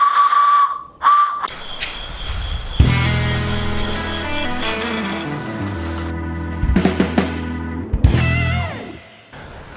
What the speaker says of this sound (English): this week we're working on this wooden whistle